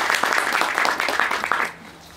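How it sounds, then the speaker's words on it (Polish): A crowd claps at the opening ceremony of a health clinic, a bright patter of hands that builds briefly and then cuts off, leaving a quiet room. "Brawa jest, tak jest."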